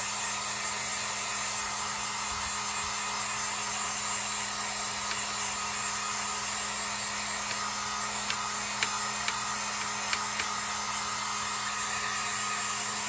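A hair dryer blows steadily on a paint brush, a constant close whir and rushing air hiss that holds evenly throughout with a few faint clicks and no speech.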